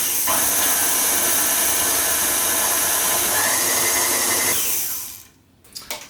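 An electric mixer whirs loudly and continuously as it beats cake batter for a Simnel Easter cake, a steady close motor drone lasting about five seconds before cutting off, followed by a few soft clatters.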